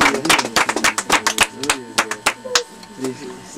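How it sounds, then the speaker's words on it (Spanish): Worshippers at a church gathering clap for the Lord, sharp close claps in a loose, irregular rhythm, some in quick bursts, with voices calling out between them. "¿No hay palmas para el Señor, tío?"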